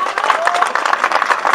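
A crowd applauds a speaker, a dense, lively burst of many clapping hands close and loud, with a faint voice briefly audible underneath.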